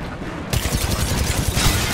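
Gunfire in the battle royale game Apex Legends: a dense, rapid burst of shots erupts after a brief pause and continues steadily and loudly to the end, with no talk.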